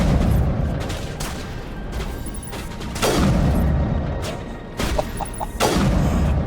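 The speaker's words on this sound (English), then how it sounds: "And I have a new sniper rifle." Sniper rifle fire in Mass Effect Legendary Edition: a few heavy, booming shots spaced seconds apart, each a sharp loud crack with a rumbling tail over continuous game background noise.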